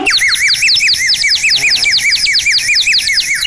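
Birds sing in a hill landscape, with high, repeated chirping trills that are dense and loud and continue throughout without a break.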